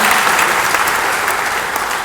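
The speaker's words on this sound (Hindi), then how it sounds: "जोरदार तालियां बजाते हैं उनके स्वागत में।" Dense, steady applause from a large audience greets a guest at a Hindi poetry gathering, loud and continuous throughout with no break.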